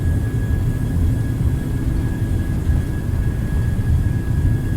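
Boeing 737-700 engines at takeoff thrust during the takeoff roll in a flight simulator, a steady loud roar with a thin high whine held evenly throughout, no voices.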